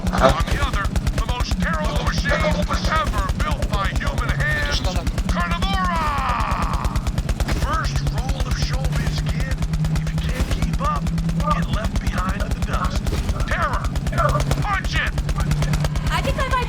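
Rapid, continuous gunfire from the video game Borderlands 3 rattles throughout, with steady automatic bursts and a voice talking over the shooting.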